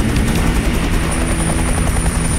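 A helicopter in Duke Nukem: Manhattan Project gives off a loud, steady rotor thrum and engine whine, close and continuous with no voices.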